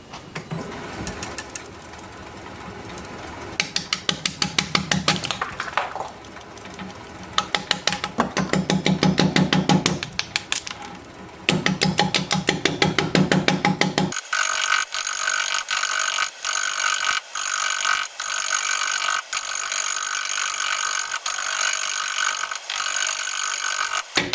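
Bowl gouge cutting an out-of-balance Gravenstein apple wood bowl on a lathe turning slowly at 340 RPM, a steady rhythmic scraping chatter at close range that sounds rougher at first, then settles into a continuous even whir.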